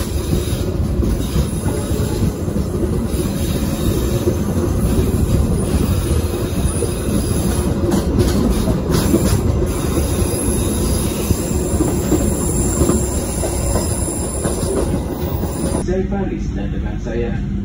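The KA Maharani passenger train departing Semarang Tawang station rumbles steadily with wheels clattering and squealing on the rails, loud and close throughout, a high whine running above the rolling noise.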